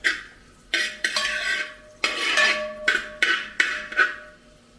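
Metal spoon scraping and clinking against a pan while stirring egg masala rice with capsicum, several distinct clanks and scrapes in an uneven rhythm, close and fairly loud, with no talking.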